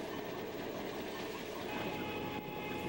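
Freight train rolling through the Canadian Rockies, a faint, distant steady rumble and rattle of rail cars, with no voices.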